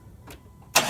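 A 2000 Jeep engine cranks over during an ignition coil spark test: near silence, then one short, loud burst of mechanical churning at the very end.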